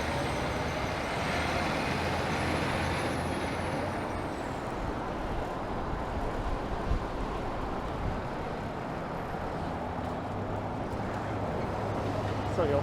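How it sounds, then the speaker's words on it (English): A city bus idles with its door open at a stop on a busy Toronto street, a dense, continuous engine and traffic roar throughout with a brief hiss and faint whine near the start. "For this bus here, it's got its door open."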